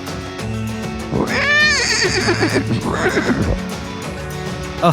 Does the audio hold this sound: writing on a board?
no